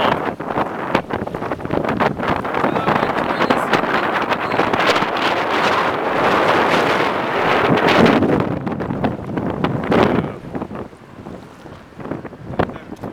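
Steady wind buffets the microphone outdoors, a loud rushing roar with gusty surges that eases toward the end.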